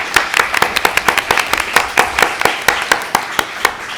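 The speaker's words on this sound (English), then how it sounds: "Please give them a round of applause." Applause from an audience at a Putnam Valley Board of Education meet-the-candidates event: a loud, steady run of close, sharp handclaps, fairly sparse, as if from a small crowd, with no talking.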